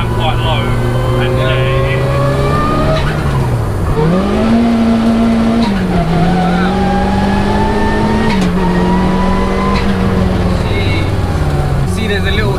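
A 340 bhp Peugeot 106 Turbo engine drones loudly from inside the car as it drives, its pitch climbing through the revs, dipping at a gear change and rising again in a steady pull.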